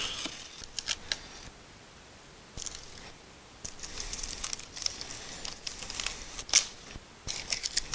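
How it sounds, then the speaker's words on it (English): A knife cuts around the edge of a restroom mirror in short, irregular scraping and crinkling strokes, close and moderately loud, with brief pauses between passes and no talking. "take the knife and cut around the edge"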